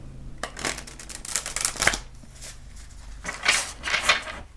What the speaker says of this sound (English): I'm gonna do a quick shuffle with it real quick.